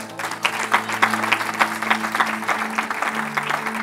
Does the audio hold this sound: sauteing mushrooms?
no